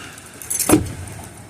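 The front door of a Hyundai Santa Fe with a worn latch swings shut, giving one short, sharp close with a metallic rattle and no voices.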